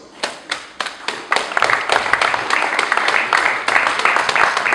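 Guests at a fiftieth birthday celebration clap as godchildren and grandgodchildren are called forward, starting with a few scattered claps that swell into steady, rhythmic applause from a nearby crowd.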